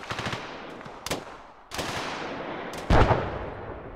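Gunfire in the video game Arma 3, several loud, sharp bursts of automatic rifle fire with short gaps between them and echoing tails, one especially heavy volley near the end, no talking.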